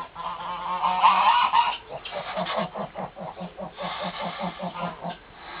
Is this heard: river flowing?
no